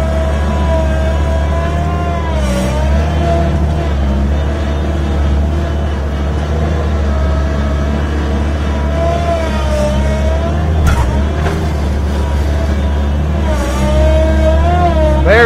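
A skid steer loader engine runs steadily on a farm, a continuous loud low rumble with a few brief rises in pitch, close by throughout with no voices.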